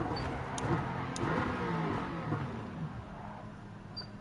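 Race car engine in the Gran Turismo 7 driving game, a steady mid-pitched drone that swells and eases as the car accelerates, loud and continuous with no talk over it.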